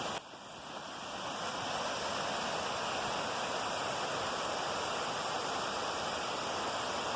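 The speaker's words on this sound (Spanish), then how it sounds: "al pie de esa peña es donde inicia la cascada de las Golondrinas" The Golondrinas waterfall cascading down a rock face in Agua Blanca, Hidalgo, a loud, constant broadband roar of rushing water that swells in over the first second and then holds steady, close by with no voices.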